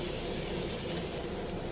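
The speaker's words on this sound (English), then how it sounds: "they said spray cooking spray. Oh, there it goes." Cooking spray hisses steadily from a can into a CanCooker for Italian sausage with peppers and onions, a close, continuous spray lasting the whole moment with no talk.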